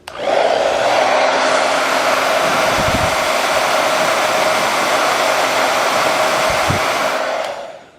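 A heat gun blowing hot air onto a shoe's sock liner: a loud, steady rush of air runs continuously for several seconds, starting abruptly and cutting off at the end.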